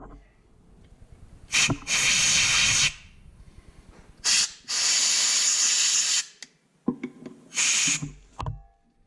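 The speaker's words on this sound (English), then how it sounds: "I'm gonna spray a little air in there right now." Compressed air hisses in three loud bursts into an off-road vehicle's brake caliper, each lasting one to two seconds, separated by short pauses with small clicks and handling sounds.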